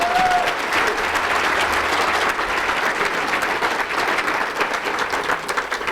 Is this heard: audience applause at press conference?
yes